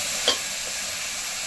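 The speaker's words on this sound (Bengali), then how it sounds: "সব মশলা তো দেওয়া হয়ে গেছে, এবার ভালো করে কষে নেব।" Spice paste of onion and tomato masala stir-fries in a pan with a steady broadband sizzle and a brief stirring scrape, close and continuous with no voices.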